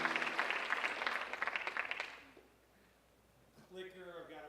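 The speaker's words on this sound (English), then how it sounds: "a big round of applause for Alex and Jessica" An audience at a 2016 LHS Writers Week event claps in a dense burst of applause for a couple of seconds before it fades away and a voice begins to speak.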